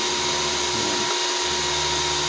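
A steady electric blower on an IGBT-type induction heater built with HY4008 MOSFETs, running in an even, close, loud continuous whir with no talking.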